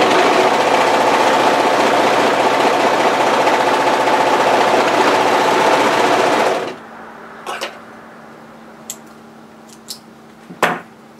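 A sewing machine stitches the layers of a wrap cardigan in a loud, steady run of rapid needle strokes for several seconds, then stops, leaving a few small clicks and handling sounds.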